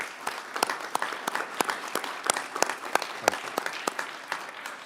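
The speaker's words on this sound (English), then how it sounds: "A big round of applause and a heartfelt thanks to all of you." Applause from an audience at an annual celebration, sharp individual claps ringing out steadily for about five seconds at moderate volume, with no one speaking.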